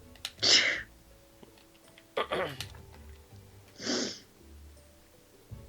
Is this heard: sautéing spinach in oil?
no